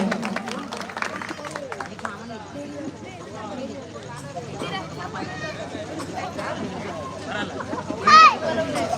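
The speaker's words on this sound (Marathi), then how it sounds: "एकदा जोरदार टाळ्या विलाजी तरे यांच्यासाठी झालं" Applause and crowd hubbub for a singer at a Maha Shivratri evening music program in Shelu, mixed with chatter and voices throughout, swelling briefly near the end.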